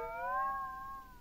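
A house cat gives one clear, drawn-out meow lasting about a second, close by and fairly quiet, rising slightly then trailing off, with no talking.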